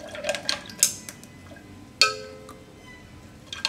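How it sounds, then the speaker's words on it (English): A drink with ground cinnamon gets stirred in a glass, with several sharp clinks of a spoon against the glass, one louder ringing strike in the middle and quieter taps around it, close and without talk. "I'm just gonna stir this around."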